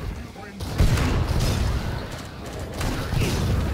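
Grenade launcher blasts from the shooter game Killing Floor 2 land close by, giving heavy booming bursts with rumbling gunfire, mixed with clattering action and loud game noise.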